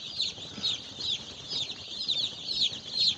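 Day-old broiler chicks cheeping in a brooder, a constant chorus of high, shrill peeps in repeated bursts, fairly close, with no talk.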